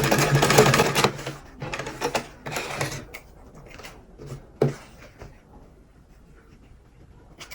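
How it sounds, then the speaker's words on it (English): A sewing machine stitches the inner seam of a damask cap, running in several loud, rapid bursts that give way to quieter clicks and handling sounds near the end. "I'll fold everything and sew it."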